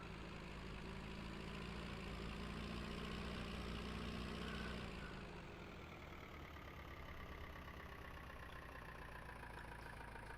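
Logging vehicle engine idling in the Lumberjack video game, a steady close mechanical drone whose tone drops and settles lower partway through, with no voices.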